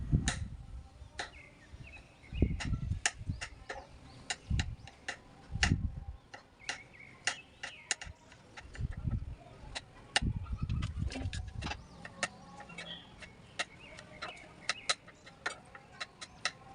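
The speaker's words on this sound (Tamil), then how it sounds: "அதுக்கு முன்னாடி காளான் எல்லாத்தையும் கட் பண்ணி அதை மேக்னேட் பண்ணி வச்சிடலாம்." Knife slicing mushrooms on a cutting board during a busy home-kitchen morning, giving a steady run of crisp close taps with duller thuds between them and no voices.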